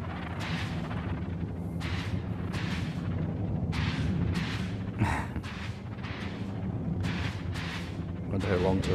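Rhythmic bursts of ship weapon fire in the space combat game Elite Dangerous, repeating steadily over a low engine drone, with someone talking throughout.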